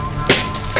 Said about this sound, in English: for the 5th day in a row, we heard broken glass